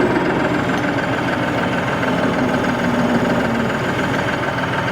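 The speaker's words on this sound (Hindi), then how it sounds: "ट्रैक्टर की आवाज़ भी हम लोगों ने सुन ली।" A New Holland 5620 TX Plus CRDI tractor engine runs steadily up close, a loud continuous diesel rumble with a faint knocking vibration and no voices over it.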